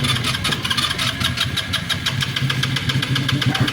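A motorcycle engine that is having trouble and won't start properly is cranked and runs in a rough, steady, rhythmic chug, close and loud throughout, with no talking.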